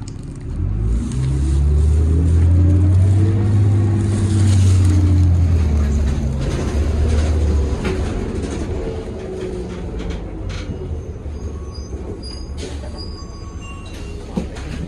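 2004 New Flyer city bus of the ETS fleet driving by, a loud low engine rumble swelling and then easing off into quieter road noise.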